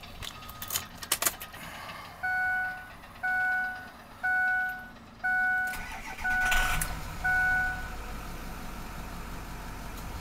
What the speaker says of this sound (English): I'm going to start it up for you